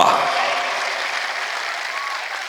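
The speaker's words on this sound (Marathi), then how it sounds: "एकदा जोरदार टाळ्यांचा कडकडाट मनोज दादांसाठी" A large crowd at a Maratha reservation rally breaks into loud, sustained applause that fades slightly over a couple of seconds.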